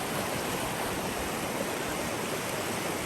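A broad mountain stream rushes steadily past, its even wash of water close and loud, with no voices over it for the whole stretch.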